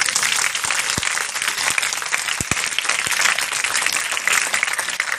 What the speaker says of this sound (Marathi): त्या माय मावल्यासाठी मुलींनी अगोदर टाळ्या द्यायच्या